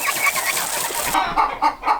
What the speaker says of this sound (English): I've caused an uproar in the chicken coop by collecting eggs